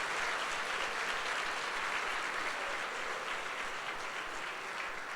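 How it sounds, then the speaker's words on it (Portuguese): A church congregation at a Sunday worship service applauds steadily, a dense, even wash of clapping holding at one level throughout with no voices above it. "Pode aplaudir o Senhor"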